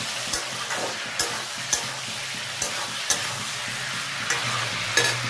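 A potato and papaya curry sizzles steadily in hot oil as a spoon stirs it, scraping the pan in regular clinks about once a second, close and clear with no talking.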